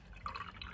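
Milk trickles briefly into a glass for iced coffee, a faint, short liquid pour with a soft splashing tone, heard close and alone.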